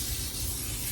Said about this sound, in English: So you make sure you spray it with Pam, and you don't have to use it real heavy, just light enough.